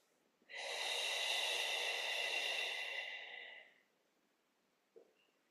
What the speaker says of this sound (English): let's exhale through the lips